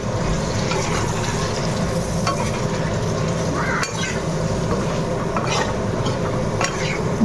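Fish with potatoes cooking in a pan gives a steady, close sizzle, broken by scraping stirs throughout and no voices.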